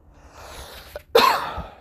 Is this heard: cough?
yes